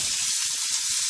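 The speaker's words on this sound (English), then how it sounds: "place two of your patties into the frying pan" Two sausage patties sizzling in about a tablespoon of oil in a frying pan on medium heat, a steady bright crackling hiss with soft lower bubbling underneath.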